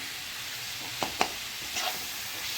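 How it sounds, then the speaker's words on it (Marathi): Tomato chutney with peanuts and salt stirred in a frying pan: a steady sizzle with a few soft scraping strokes of a spoon, close, with no talking. "आता हे छान असं मिक्स करून घ्यायचं"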